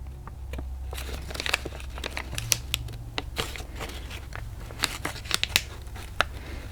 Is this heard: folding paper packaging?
yes